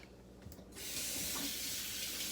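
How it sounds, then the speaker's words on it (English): Sink faucet running water into a soup pot: quiet at first, then a steady rushing hiss of the stream filling the pot, close and continuous. "I'm going to go over to the sink and fill this up with water."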